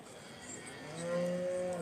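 Aberdeen Angus cow at the Royal Highland Show giving a single rising moo that swells in the second half, clear and fairly close over a soft show-ground murmur.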